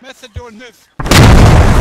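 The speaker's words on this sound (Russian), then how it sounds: "Разнесло фобу." An enemy FOB is blown up in the video game Squad: after a stretch of speech, a loud, sudden blast hits and then holds as a sustained roaring, crackling rumble that fills the rest of the clip.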